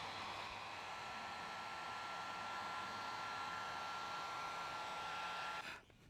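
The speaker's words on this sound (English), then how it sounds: "I'm going to use my heater and heat up the surface" An electric heat gun or blower heating a sensor surface, a steady loud airy roar with a constant motor whine that runs unbroken before switching off and winding down.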